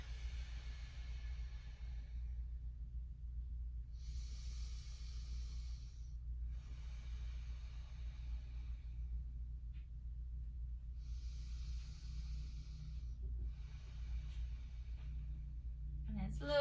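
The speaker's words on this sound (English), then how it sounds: "I am breathing out." Slow, deep yoga breathing by a mother practicing with toddlers, long soft airy inhales and exhales of a couple of seconds each, faint over a low steady hum.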